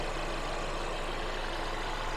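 A 2017 Mercedes E300 engine idles smoothly, a steady, even hum that is fairly quiet and continues alone without pauses.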